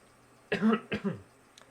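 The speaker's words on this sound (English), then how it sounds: "That wasn't a normal coughing sound." Two sharp coughs in quick succession, close and fairly loud, with nothing else around them.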